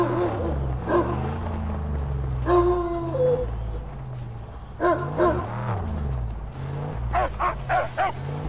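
Dog barking and howling in the Mad Max video game, several sharp barks and a drawn-out howl rising over a steady low game soundtrack, close and fairly loud.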